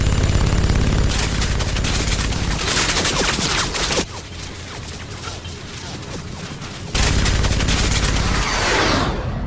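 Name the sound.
gunfire in an anime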